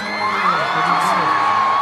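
A festival crowd cheers and whoops at a band's live show at the 2023 Pentaport rock festival, loud, close and sustained across the moment.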